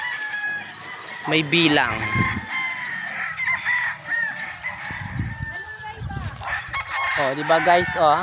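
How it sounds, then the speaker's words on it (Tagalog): Fighting gamecocks and roosters in a coop, several loud, close crows rising over scattered clucking, with someone talking between the calls. "Ang daming mga manok, oh, nakikita nyo ba?"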